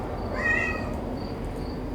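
A single short meow rises briefly over a steady low background hum, fairly faint and a little distant.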